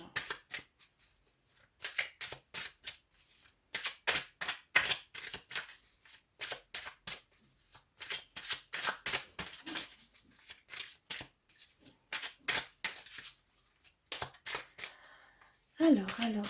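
A deck of tarot cards being shuffled and cut by hand, with rapid riffling bursts repeating in quick clusters throughout, close and crisp, ending with a brief thump as the deck is set down; speech is faint or absent.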